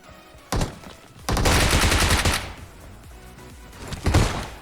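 Bursts of gunfire in a battle royale video game, with a short shot followed by a longer sustained volley and a final burst, loud and close with no talk.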